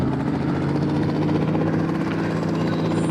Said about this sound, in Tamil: அதுவும் புல்லட் ப்ரூஃப் ஹெலிகாப்டரு.